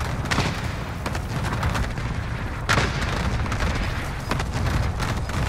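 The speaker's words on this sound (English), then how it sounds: "Oh, artillery strike." Artillery strike explosions in Call of Duty Warzone, a dense barrage of booms and crackling blasts rolling on continuously, with sharper impacts standing out, loud and near.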